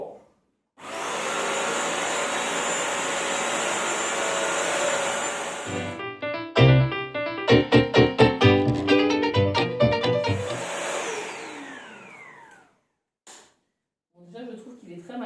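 A Bissell CrossWave PetPro corded vacuum and floor washer runs with a steady whirring roar. It then breaks into a series of rattling clicks and bumps as it is pushed and handled, then cuts off and leaves quiet and a few light knocks.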